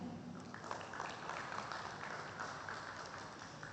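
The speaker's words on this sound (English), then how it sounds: "let us express our appreciation with a warm round of applause for the iWin" Steady, dense applause from an audience at the Qualified Connect UAE 2026 business event, greeting the iWin Solution team; the clapping stays even and sustained throughout with no voices above it.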